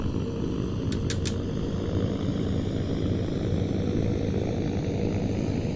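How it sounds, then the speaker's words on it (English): Fully electric airplane at full throttle on a test flight, giving a steady, continuous broadband drone of motor, propeller and airflow with no distinct engine beat, a few faint clicks early on. "let's see what happens when we give it full throttle"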